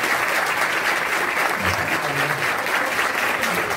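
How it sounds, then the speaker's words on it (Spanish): A church talent-show audience greets two musicians with loud, sustained applause, a thick continuous roar of clapping from a full crowd with no voices over it. "Recibimos con un fuerte aplauso a Alejandro Haza y Javier López"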